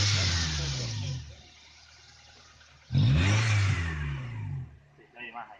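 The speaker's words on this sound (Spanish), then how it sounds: "Se oye más allá el motor." A 1999 Honda VTEC car engine revs up twice, loud rising surges separated by a quieter idle, with voices speaking over the engine.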